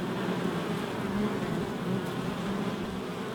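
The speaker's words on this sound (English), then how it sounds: "It's fanning its wings, look, getting the airflow in there." A honeybee fans its wings at the entrance of a strong hive colony, giving a steady, close, continuous buzzing drone with no pauses.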